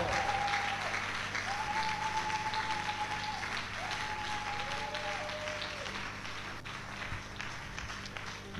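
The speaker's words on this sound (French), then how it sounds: "on acclame très fort." Congregation at a morning intercession prayer service in Brazzaville applauding loudly, a dense continuous wash of clapping that carries on throughout with faint voices and a high tone drifting above it.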